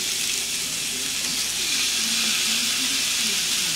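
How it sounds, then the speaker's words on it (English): Homemade hamburger patties sizzle steadily on a hot grill, a dense, even frying hiss that runs unbroken through the whole stretch at close range, with no voices over it. "And I'm just going to place my burgers 4 at a time."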